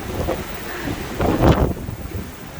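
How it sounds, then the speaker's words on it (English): Strong wind buffets the open deck of a Disney Wonder cruise ship on a rough sea day, a steady roaring rush with a louder gust in the middle and no voices. "It's very windy."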